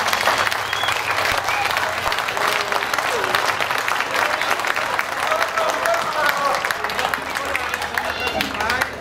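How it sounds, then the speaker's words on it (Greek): An audience at a rally claps for students, loud, dense and sustained applause mixed with crowd noise, continuing steadily throughout. "Να χειροκροτήσουμε τα παιδιά που κάνουν το δικό τους αγώνα."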